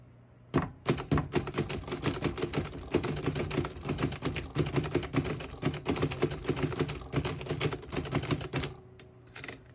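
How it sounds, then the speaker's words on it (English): Rapid keystrokes on a 1937 Remington Deluxe Noiseless portable typewriter, a steady run of soft, muffled clacks typing out a sentence close up, with no talking. "I'll type a sentence on the next line."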